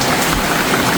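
Steady, dense rain pouring down outdoors, loud and close with an even hiss and patter throughout, no voices present.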